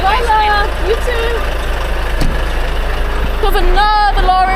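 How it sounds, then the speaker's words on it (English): A lorry engine idles with a steady low rumble close by, while people talk over the running motor. "Got another lorry."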